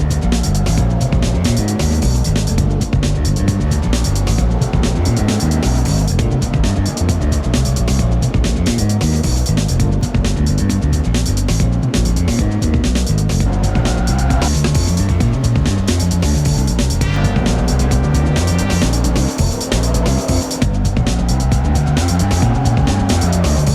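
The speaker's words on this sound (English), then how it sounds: "The rear sliding around, the tires screaming at each corner, and the V6 going..." Forza Motorsport 3 race car with a mid-engine V6 revving hard under constant engine drone, tires squealing through corners as the rear slides; loud and continuous with no talking.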